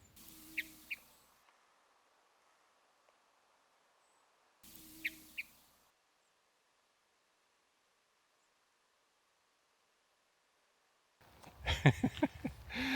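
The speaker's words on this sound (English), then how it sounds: "hermit thrushes, one doing chuck chuck over there just to let me know he doesn't want me here" A hermit thrush gives short, sharp chuck calls in a quiet conifer forest, two brief bursts several seconds apart, with a louder rustle or handling noise near the end.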